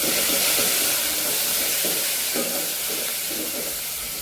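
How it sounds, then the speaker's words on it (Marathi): Coriander and tomato sauté in a hot pan for sambar, giving a steady loud sizzling hiss with occasional stirring scrapes throughout. "कोथिंबीरला पण चांगलं परतून घ्यायचे"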